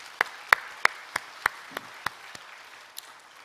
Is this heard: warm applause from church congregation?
yes